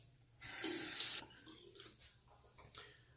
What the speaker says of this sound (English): Excuse me while I rinse this.